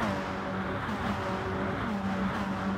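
Lancer GT3 race cars in a racing video game on the Tokyo Expressway circuit, a steady, dense engine drone with rising and falling tonal whine as they accelerate, continuous and moderately loud.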